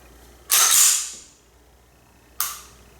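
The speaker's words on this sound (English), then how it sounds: "You hear a good click" Two sharp mechanical clicks from a Heckler & Koch VP9 pistol's trigger resetting, the first louder with a brief ringing tail, the second a moment later and shorter, close and isolated.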